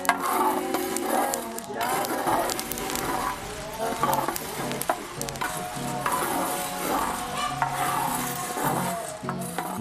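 Coffee beans roast and are stirred in a pan over a firewood fire in an Indonesian village while rain falls outside, giving a steady rattling, sizzling texture with faint distant tones behind it.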